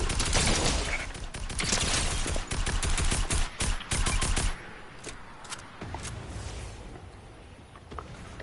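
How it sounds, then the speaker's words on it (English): Dense, sustained gunfire in Fortnite during a late-match fight with two opponents left, a continuous crackle of shots that is loud at first and then thins into more scattered distant pops. "They're shooting over there."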